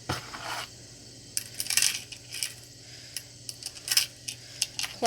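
A dish handled and set down, with a string of light, sharp clinks and taps scattered irregularly through the clip, close and fairly quiet over a low background hum.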